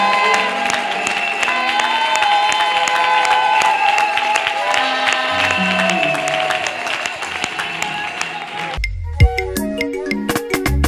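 Church congregation applauding, a crowded spatter of claps mixed under loud music with sustained tones, with a shift in the music near the end.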